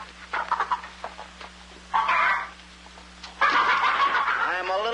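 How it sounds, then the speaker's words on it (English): Chickens cluck and squawk in close, loud bursts, with a few short clucks followed by two longer, raspy calls separated by brief pauses. "Well, feed the chickens."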